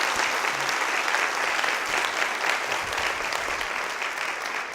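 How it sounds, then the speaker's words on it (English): Steady, dense applause from an audience at a university year-in-review event fills the space evenly throughout, many hands clapping together with no voices on top. "Let's give them all a round of applause."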